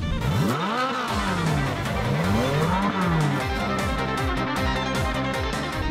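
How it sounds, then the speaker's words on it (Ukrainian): A car engine revving repeatedly at an auto show, rising and falling in pitch with each press of the throttle, loud and close, mixed with a steady background din and no talk. "Варто лише доторкнутись педалі газу, і двигун починає звучати мецофорте."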